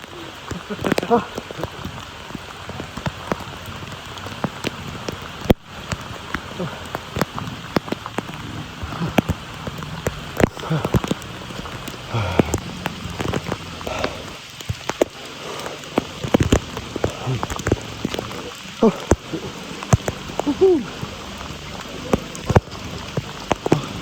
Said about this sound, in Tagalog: Guys, umuulan.